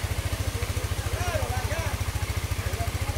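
A motorcycle engine idles with a quick, even low pulsing, close and fairly quiet, while voices speak over it on a rainy road.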